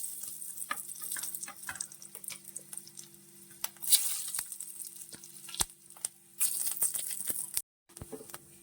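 Mustard seeds splutter and pop in hot oil, sharp irregular crackles over a low sizzle, close by, with a brief silent gap near the end.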